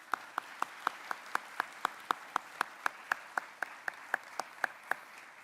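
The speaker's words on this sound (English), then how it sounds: "I'd like to give you guys to give a big round of applause to our family and friends who are here supporting us" Audience at a medical school white coat ceremony claps in a slow, steady rhythm, each sharp clap evenly spaced and fairly distant, with no talking over it.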